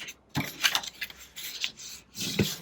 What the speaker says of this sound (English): if I pull that down and burnish it first.